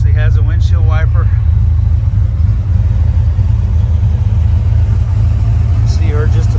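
A 1932 Ford steel roadster with a 327 V8 idles with a steady low rumble close by, while someone talks briefly over it at the start and end.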